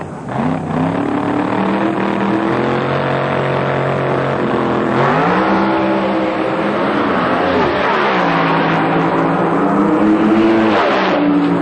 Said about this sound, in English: Picked up the front wheels, went through the 2-speed, the 3-speed gear changer, and made a nice run.